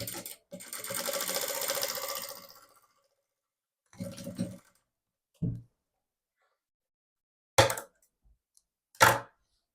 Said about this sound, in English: So I'm going to join the fabric now with ½ inch sewing allowance.